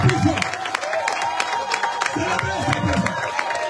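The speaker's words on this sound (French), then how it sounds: "accueillir avec des acclamations et des cris de joie à l'Éternel" A church congregation at a worship service cheers and applauds loudly and continuously, with dense clapping, shouts of joy and crowd babble.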